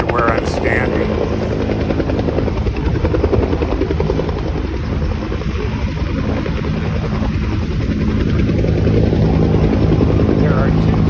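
A helicopter loads water from a lake to fight a wildfire, its rotor thumping loud and steady nearby for the whole stretch, with a voice speaking beneath the din.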